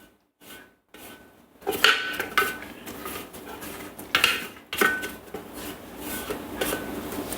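Scraping and rubbing in a Thermomix mixing bowl during risotto prep, with uneven scuffs and light metallic knocks close by, starting sparse and turning into steadier busy handling.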